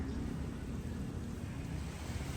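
Ocean surf rolls in at the shore near a house in Antique, Philippines, a steady broadband wash of waves mixed with wind buffeting the microphone, with no speech.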